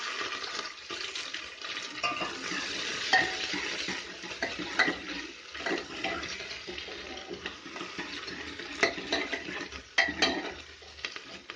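Garlic, ginger, green chili and onion fry in a pan, a soft, continuous sizzle broken by intermittent scraping and clinks of a spoon stirring against the metal, quiet and without talking.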